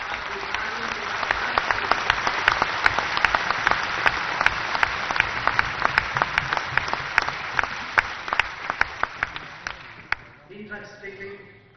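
A large audience at the International Basava Convention in Delhi, marking Basava Jayanti, breaks into loud, dense, sustained applause lasting about ten seconds before it tapers off at the end.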